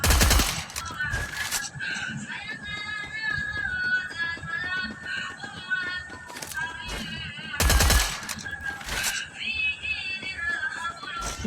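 Video game shooter gunfire with headshots comes in sharp, loud bursts of rapid automatic fire, spread across the stretch over a bed of tonal game sounds.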